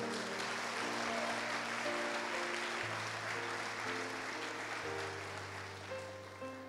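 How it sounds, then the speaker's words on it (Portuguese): Church congregation applauds, steady clapping under sustained organ or keyboard chords that keeps going for several seconds, then fades slightly. "Aplaudiu Jesus aí, irmão."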